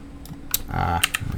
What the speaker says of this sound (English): I keep on clicking that thing. It's not taking it.